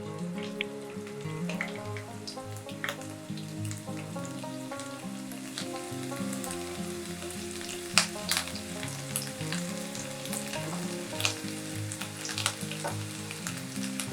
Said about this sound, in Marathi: तेल गरम झालं आता त्यामध्ये मी लसूण घालत आहे